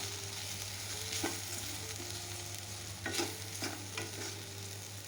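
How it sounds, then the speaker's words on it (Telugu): Okra curry with peanut powder stirred in a pan of low oil, a steady sizzle of frying under scraping spoon strokes, with a few louder stirring bursts and no talk. "ఇప్పుడు ఈ పల్లీల పౌడరు కూరలో వేసేస్తున్నానండి"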